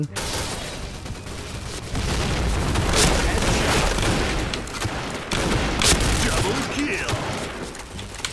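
Grenade blasts and rapid gunfire in the online shooter Point Blank: heavy booms and dense bursts of shots follow one another loudly throughout, with a voice speaking over the combat.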